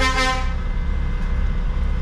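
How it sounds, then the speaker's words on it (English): Car horns honk in busy traffic at Tanger Med port in Morocco: one loud, sustained blast at the start fades into the steady rumble of engines and traffic, with no talking. "I'm in a rush too, but I'm not honking."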